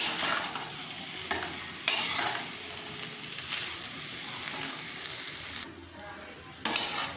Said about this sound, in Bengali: আমি লো টু মিডিয়াম হিটে 2-3 মিনিট টাইম নিয়ে ভালো করে কষবো